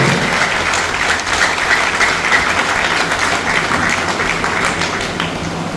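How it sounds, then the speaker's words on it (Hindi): An audience gives a loud, sustained round of clapping to welcome the new DRM and his wife onto the stage at a ceremony, dense and steady throughout. "एक बार जोरदार ताली से स्वागत करें"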